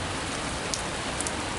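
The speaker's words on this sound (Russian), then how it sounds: "Сейчас такой ураганный ветер и дождик, он уже капает." Steady rain driven by strong gusting wind hisses on surfaces with a constant broadband wash, close and fairly loud, a few sharper drop hits standing out.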